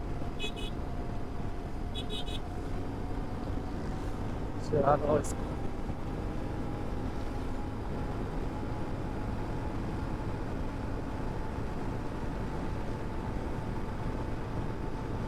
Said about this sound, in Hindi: फिर फोर्थ गियर में 5800 आरपीएम पे चेंज किया है।